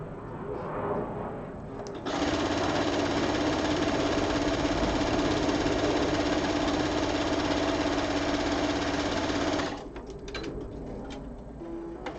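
A long arm quilting machine runs loudly and steadily for about eight seconds with a dense mechanical whir and rapid ticking, starting and stopping abruptly, framed by quieter room sound.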